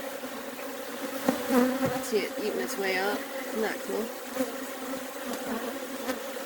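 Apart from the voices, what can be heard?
honey bees buzzing as a baby bee emerges in a nuc box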